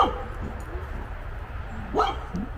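A couple of dog barks ring out at a moderate distance, one near the start and a sharper one toward the end, over quiet background noise.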